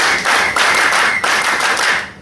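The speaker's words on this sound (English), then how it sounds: "Let's give them an MI International clap. 1, 2, 3, go!" Loud, close clapping from a leaders' meeting audience in Lagos, Nigeria, with many hands striking together in a rhythmic series of sharp, unison claps after a group count.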